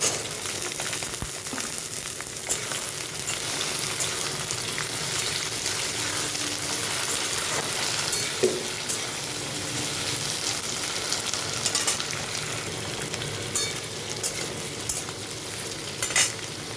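Teasel gourd, pointed gourd and potatoes fry together in a pan for a mixed vegetable curry with shrimp. A continuous close sizzle is broken by scraping stirs and occasional utensil clicks, with no talking.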